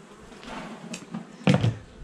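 Honey bees at a beehive give off a faint, steady buzz, with a few louder passes as single bees fly close by.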